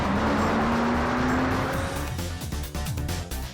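A 2007 Porsche Cayman with its 2.7-liter engine revs loudly as it passes, the tone climbing steadily before tire noise and engine rumble fade slightly toward the end.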